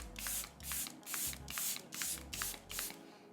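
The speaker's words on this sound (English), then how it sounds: "get a hydrating spray" A fine hydrating face mist sprayer fires seven quick bursts in an even rhythm, each a soft airy hiss close by, with faint rustling between sprays.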